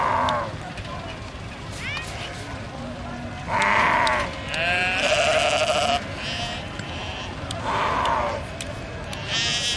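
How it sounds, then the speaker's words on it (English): Several sheep bleat loudly in repeated bursts at an animal market, over a busy outdoor background of crowd murmur and distant traffic. "A few more scenes from the animal market."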